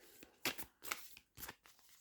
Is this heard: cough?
no